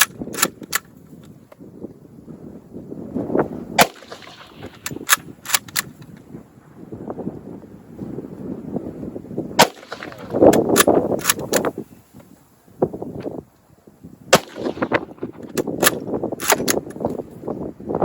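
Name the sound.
gunshots at a shooting range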